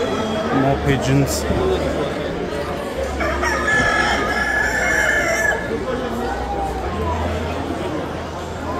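Roosters crow repeatedly in poultry pens at a livestock fair in France, loud nearby cock-a-doodle-doos with clucking in between, set over a steady murmur of crowd chatter and hall noise.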